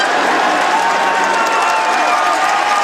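Roadside crowd at the 2012 Tour de France roaring and cheering a rider toward the finish of a time trial stage, a loud continuous wall of cheers and clapping with commentary voices mixed in.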